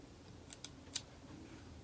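Scissors snip through string while making hanging craft clouds: two or three quick, crisp cuts close by, with quiet room tone and no voices.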